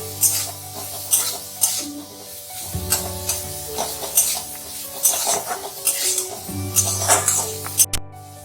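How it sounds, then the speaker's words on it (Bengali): Chopped green chillies fry in a pan for a spicy masala Maggi, with light sizzling, a spoon stirring and metal clinking against the pan over steady background music. "এরপর লঙ্কা কুচি দিয়ে দেব। এটাকে একটু ভেজে নেব।"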